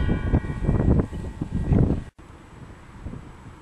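Outdoor wind beside a 2.5 kW Proven wind turbine roars and buffets the microphone in loud, gusty low rumbles, then drops to a steadier, softer rush after a brief cut.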